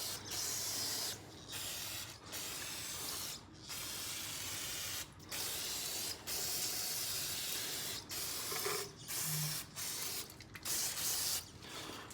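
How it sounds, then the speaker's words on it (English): Cleaner sprayed into the sump pan of a Briggs and Stratton engine, a series of loud, close hissing bursts of aerosol spray separated by short pauses, with no talking. "spray it out"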